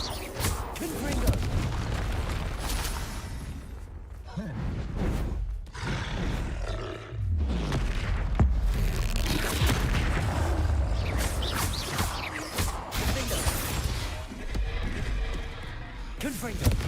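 Confringo blasting spell explosions in Hogwarts Legacy, loud booming blasts and roaring bursts repeating through the whole stretch, dense and close with brief gaps between volleys, amid game effects.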